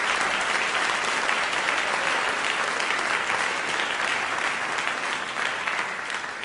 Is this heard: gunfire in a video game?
no